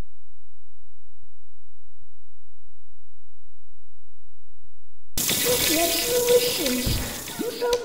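Water running from a tap during washing in a video game, a loud steady gushing that starts abruptly after several seconds of silence and keeps flowing to the end, with no voice.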